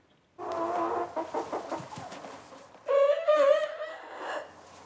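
Hens on a farm in Brittany, France, clucking and calling in a steady burst of short notes, then a louder, more drawn-out squawk near the end, close by with no talking.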